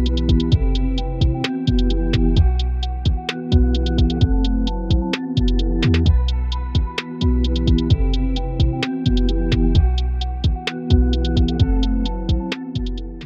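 A beat passed through a narrow band-pass EQ in Pro Q3, with lows and highs cut away, so that a steady, looping pattern of pitched hits and ticking percussion sounds thin and boxy, continuous and without talk.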